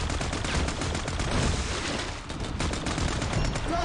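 Gunfire from the mobile shooter game Frag Pro Shooter as a Cybergirl character shoots enemy troops: a dense, loud, continuous rattle of rapid shots with no pauses.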